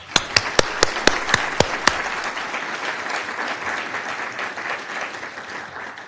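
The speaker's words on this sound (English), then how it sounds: "So let's give another round of applause." An audience at a college leadership forum breaks into applause, opening with a handful of loud, distinct claps before settling into a dense, even wash of clapping that carries on steadily to the end.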